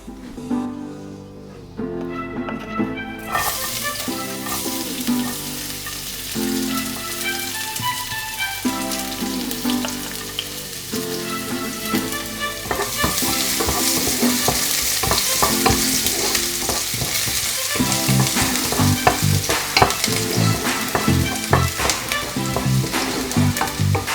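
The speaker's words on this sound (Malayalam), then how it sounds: "എണ്ണ ചൂടായി കഴിയുമ്പോൾ അതിലേക്ക് നമ്മൾ എടുത്തു വെച്ചിരിക്കുന്ന വെളുത്തുള്ളിയും സവോളയും ചേർത്ത് കൊടുക്കാം." Garlic and onion sizzle in hot oil for a chicken pasta dish, a close and continuous frying hiss broken by scraping stirs, the sizzle growing louder and brighter partway through.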